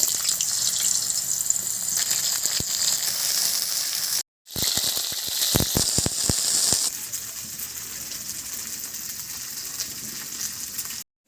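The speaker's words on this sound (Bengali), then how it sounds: "আলু আর বিনটা একসঙ্গে ভেজে নিচ্ছি" Potatoes and beans frying together in hot oil, a steady close sizzle that runs throughout, with a brief cut and a burst of sharper crackles and clatter midway before the frying settles back to an even hiss.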